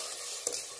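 Crushed tomato being stirred into frying masala in a pan, a faint, steady sizzle with one brief scraping stir midway, close and without speech.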